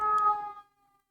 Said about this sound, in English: y'all hear the police siren?